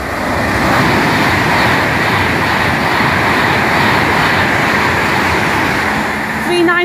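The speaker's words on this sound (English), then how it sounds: "The next train at platform 4 does not stop here" A non-stopping train roars through a platform at Nuneaton station, a loud, sustained rush of rail and wagon noise close by that holds steady throughout with no voices.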